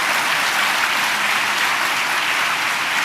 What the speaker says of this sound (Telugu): నమ్మిన వాళ్ళు చప్పట్లు కొడుతూ స్తోత్రాలు చెప్తారు.